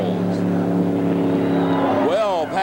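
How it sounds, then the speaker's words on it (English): The Model A Berry Wagon drag racing car, driven by Wild Bill Shrewsbury, blasts down the track at the 1979 World Finals. A loud, sustained engine roar ends in a sharp rising-and-falling pitch sweep, with a voice talking over it. "The Model A Berry Wagon heads down the track."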